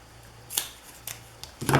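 Scissors snipping dimensional tape, a few sharp separate snips close by, with no one talking.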